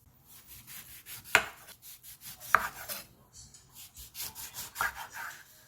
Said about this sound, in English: Now get a lemon and slice.